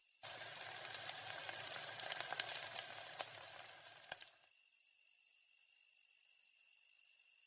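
Fish frying in a pan in a cartoon kitchen scene, with a bright, dense crackling sizzle for about four seconds that stops abruptly, leaving a thin high tone and near silence.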